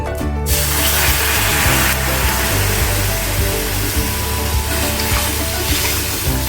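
Water hits a hot karahi used for oil-free fish curry, bursting into loud, dense sizzling and hissing right away that continues steadily with a few clinks of utensils, close up.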